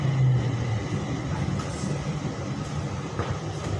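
Bangkok MRT Green Line skytrain rolling along the northern Khu Khot to Mo Chit stretch, a steady low rumble of wheels and car body hum heard from inside, with faint rattles and no talking.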